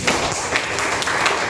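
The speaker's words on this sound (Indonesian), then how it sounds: "boleh kita tepuk sebentar?" Brief applause from a crowd at a police social-aid gathering in Medan, a dense, steady wash of clapping with a few sharper hits throughout.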